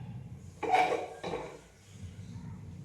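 A frying pan (chatti) set down on a lit kitchen stove before sautéing: one near metallic clank with a short rattle, followed by a quiet room hum.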